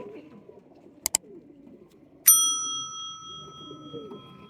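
Ali wale pigeons cooing in a low, steady murmur. Two sharp clicks cut through, then a bright ringing ding sustains and slowly fades over the birds.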